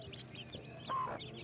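A hen clucks softly in a village vegetable plot among her chicks, a few low clucks and faint cheeps heard close but quiet against a light outdoor background.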